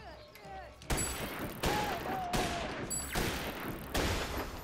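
Gunfire in the Naughty Bear video game comes in several loud, dense bursts of rapid shots, each cutting in abruptly, with voices and game sounds between the volleys.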